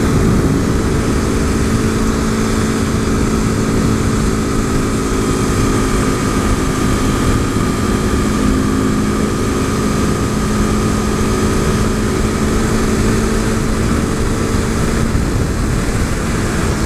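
A modded 2015 KTM RC 390 single-cylinder motorcycle ridden in fifth gear, a loud steady engine drone with constant wind roar, close and unbroken for the whole stretch with no talking.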